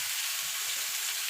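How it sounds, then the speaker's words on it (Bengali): Pumpkin pieces frying in a pan make a steady, close sizzle with a faint hiss and a few soft low bumps throughout. "এবার এটাকে আমি ভাজা ভাজা করে নেবো"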